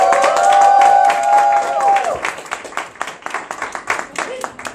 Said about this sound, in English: let's actually do the round of applause